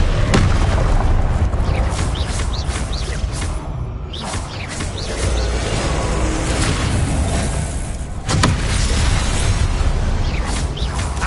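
Spell effects from a Hogwarts video game, with the Expelliarmus spell being cast: loud booming bursts and whooshes over a dense, continuous rumble, with sharp impacts near the start, around four seconds and around eight seconds.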